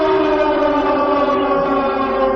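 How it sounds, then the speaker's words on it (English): A loud, sustained siren wail from Siren Head in a Roblox game holds a steady, harmonically rich pitch throughout, blaring close and alone without any voices. "The siren head started screaming even louder."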